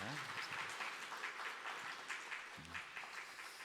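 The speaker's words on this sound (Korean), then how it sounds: "박수로 우리 격려해 드리고 위로해 드리겠습니다" A church congregation at a Sunday morning service applauds in encouragement, a dense, steady patter of many hands clapping throughout, with faint voices mixed in.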